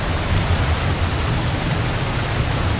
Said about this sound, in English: That's waterfall effect.